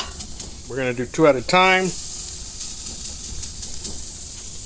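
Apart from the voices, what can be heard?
pork ribeye steaks searing on a Weber Spirit II gas grill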